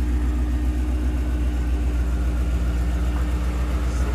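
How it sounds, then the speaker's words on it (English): A tuned Shelby GT350 making around 900 wheel horsepower, idling with a steady, deep engine drone that stays loud and even throughout, nobody talking. "Car's running fantastic."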